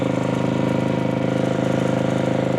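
A Tecumseh small engine runs steadily at 3,300 RPM, a loud, even, buzzing drone with a fast regular firing pulse that holds constant throughout, with no talking over it.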